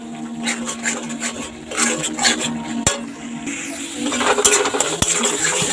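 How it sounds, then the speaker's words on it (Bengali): Spice paste for a papaya paneer curry is stirred and fried in a pan, a steady sizzle under repeated scraping strokes of a spoon against the metal, loud and close throughout. "ভালো করে কষাবো মশলাটা"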